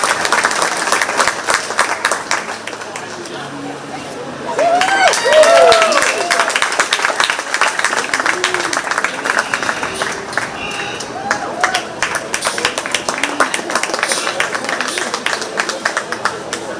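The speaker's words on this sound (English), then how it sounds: "Let's give all these kids a round of applause" Audience applause at a 4-H/FFA goat show at a county fair, steady clapping from a crowd that swells briefly and continues throughout, with a voice talking over the sound system.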